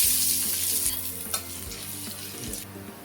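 Chopped onion, ginger and garlic fry in mustard oil for an egg tadka, giving a steady close sizzle with intermittent scraping stirs, and no voices.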